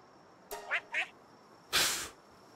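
A water duck Pal named Fuak in the video game Palworld gives three short, clipped quacks in a quick run, followed by a longer, breathy hissing call, all fairly close and alone against a quiet background.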